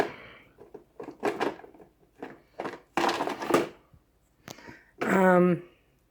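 Drawers of a craft storage unit slide open and shut in a couple of short, close scraping bursts, one ending in a squeak, between stretches of a person talking.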